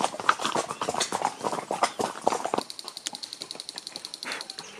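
Horse hooves clip-clopping on a horseback ride through vineyard country in the Andes, Maipo Valley, Chile, a quick uneven string of close hoof strikes, louder at first and then lighter and more regular.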